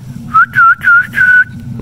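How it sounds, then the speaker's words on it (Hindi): A person whistles to call a street dog, four loud, close, sustained whistle notes in quick succession, rising slightly at the start, over quiet outdoor background. "गाइस हम सीटी मारते हैं तो ये आ जाता है हमारे पास।"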